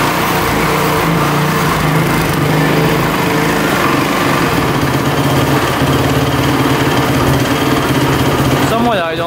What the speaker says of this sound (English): Somewhat idling.